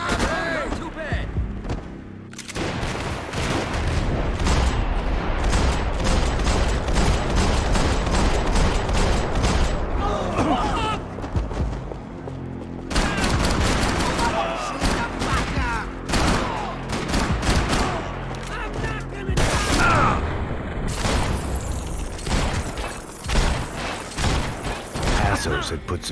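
Sustained bursts of gunfire in the video game Max Payne 3 rattle loudly and almost continuously, with brief pauses between volleys, heavy thumps mixed in, and voices shouting over the shooting.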